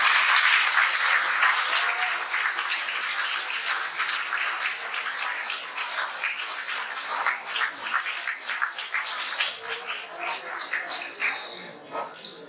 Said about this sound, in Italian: vi chiedo un applauso di incoraggiamento per i bambini